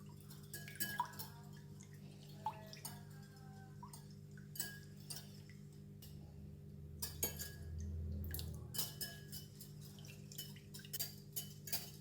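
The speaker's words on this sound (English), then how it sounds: "I'm just going to stir and break the egg" Eggs stirred and broken up in a bowl for silky Chinese steamed eggs, a utensil clinking and scraping against the bowl in scattered bursts over a low steady hum, close and fairly quiet.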